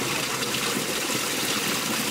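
Warm 34-degree water gushes steadily from a village artesian well spout about one and a half metres high, a loud continuous splashing rush with no talking.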